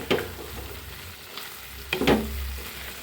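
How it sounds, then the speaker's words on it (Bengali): Boiled taki fish being stirred with spices in hot oil, a steady close sizzle broken by two sharp scraping stir strokes. "এখন এটা আমি ভালো করে মশলার সাথে মিক্সচার করে নাড়াচাড়া করতেই"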